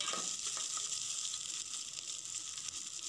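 Chopped onions and potatoes sautéing in a pan, a fairly quiet but steady sizzling hiss with faint stirring, close by and with no talk.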